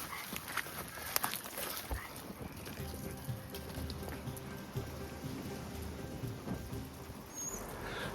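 Rain falls outdoors over Scottish farmland near Aberlemno and Dunnichen, a steady soft patter of drops on surfaces with occasional sharper taps, continuous and moderately close.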